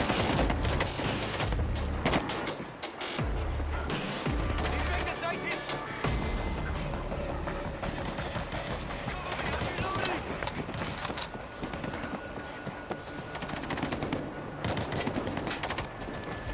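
Mounted turret firing in the World War Z video game during a Tokyo battle, a dense continuous fusillade of rapid gunfire layered with booms and game speech throughout.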